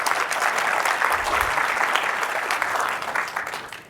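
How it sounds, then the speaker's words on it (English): A conference audience applauds a panel at a genomics forum with a full, steady round of clapping that holds for a few seconds and then tapers off, with no voices over it. "So give them all a big round of applause"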